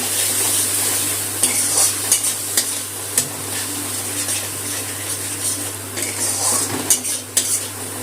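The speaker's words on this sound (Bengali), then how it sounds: "মশলাগুলো, গুঁড়ো মশলা আর বাটা মশলা একসাথে কষিয়ে নেব।" Ground and paste spices being sautéed in a pan for a vegetarian aloo dum, with a steady close sizzle and scattered scrapes and clinks of a spoon stirring against metal; a low steady hum runs underneath.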